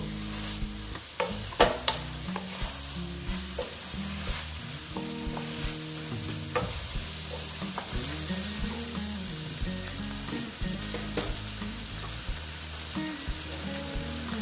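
Soybean and chana dal masala sizzles and fries in a pan while a spatula scrapes and stirs through it, with repeated clanks and scrapes over a steady hiss.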